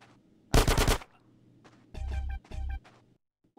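Grand Theft Auto: San Andreas gunfire comes as three short loud automatic bursts, the first sharp and bright, the next two rattling rapidly with a brief gap between them, then quiet.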